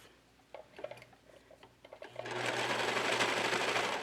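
A serger stitching the edges of a jacket: a few scattered handling taps and clicks, then the machine starts up into a close, steady, fast whirring run that continues to the end.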